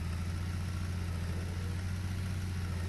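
Tractor engine in the Truck Simulator: Ultimate game, drifting, a steady low droning rumble held throughout at a constant level, with no talk.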